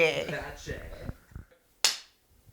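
One sharp, loud hand clap rings out right after some casual talk, a single crisp crack that decays quickly into quiet.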